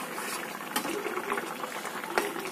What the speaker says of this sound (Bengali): ফুটে উঠুক, এই যে ফুটে উঠে উঠছে